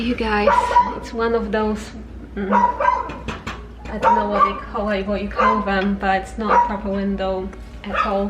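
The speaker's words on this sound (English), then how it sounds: "You can hear the dog barking" A dog barks and yips repeatedly outside a hotel room with no proper windows in a Cebu, Philippines slum, with short, loud outbursts coming and going while someone talks over them.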